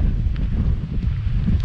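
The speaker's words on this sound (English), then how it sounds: "So I apologise about the wind, because it is howling around here." Strong wind on an exposed hilltop buffets the microphone with a constant low, roaring rumble for a couple of seconds and nothing else.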